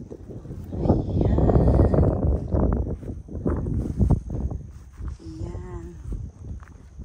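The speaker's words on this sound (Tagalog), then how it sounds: "palakas na ng palakas ang hangin" Strong gusts of wind buffet the microphone in loud, rumbling surges that rise and fall throughout, while hiking up Tai Mo Shan, Hong Kong's highest peak.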